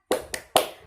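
A classroom of students clapping on cue in a rhythmic spirit chant, three sharp, close claps in quick succession.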